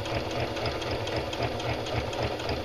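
Close, continuous mechanical whir of a sewing machine edge stitching just inside a fold while making a casing for pajama pants, with rapid steady needle rhythm and no pauses.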